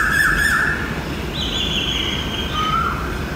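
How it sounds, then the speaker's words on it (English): Birds calling at dawn in Jaipur, India, with loud squawking and chirping calls that repeat close by over a steady background of ambient noise. "The sounds of the birds are insane if you will listen it."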